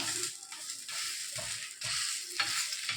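A maida flatbread (poli) cooks on a hot pan with a faint, steady sizzle and several soft scraping and pressing sounds, heard quietly without talk.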